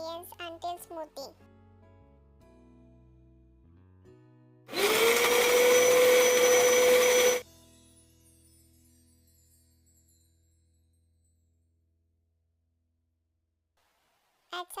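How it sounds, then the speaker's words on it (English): An electric blender grinds strawberry pieces, milk, honey and oats for a smoothie in one loud, steady whir lasting about three seconds, with a motor whine climbing as it spins up, set between quiet kitchen clatter. "Grind all the ingredients until smoothie."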